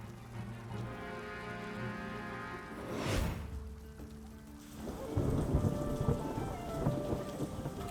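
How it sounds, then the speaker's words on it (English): Rain pours steadily in the Banner of the Maid video game, broken by a loud rolling thunderclap near the middle, with music tones underneath and the downpour swelling again afterward. "Rain!"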